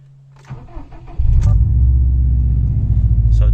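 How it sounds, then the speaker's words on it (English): A Subaru STI fitted with a Cobb exhaust cold-starts, heard from inside the cabin: a brief cranking whir, then the engine catches at once into a loud, steady, deep rumbling idle that holds to the end. "I'm going to go ahead and just give it a cold start in the car just so you can hear what it sounds like inside the cabin"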